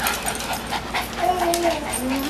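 A puppy whimpers in thin, rising whines over the last second or so, soft and close amid a background of people chatting at a birthday party.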